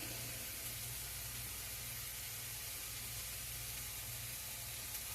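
Hamburger patties cooking: a steady, even sizzle of frying with a faint low hum underneath, continuous at a low level with no talk.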